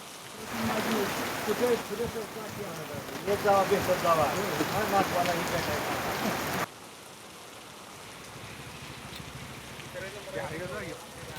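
Heavy rain falls steadily across open farm fields near Kamalapur in Sangola taluka, a dense hiss that drops in level partway through, with voices speaking over it in the first half.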